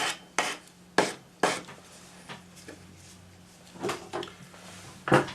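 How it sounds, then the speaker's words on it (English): A sanding stick rubs along the edges of a small metal pendant in a few short, irregular scraping strokes, close and fairly quiet, with softer rubbing between the sharper passes. "Tidy it up with your sanding stick just to make sure the edges aren't rough"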